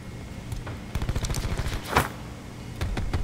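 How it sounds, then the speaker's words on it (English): Rapid gunfire in Call of Duty Blackout, a short burst of quick shots followed by a sharper blast and a few scattered cracks, moderately loud over game ambience. "Shooting the shit out of him."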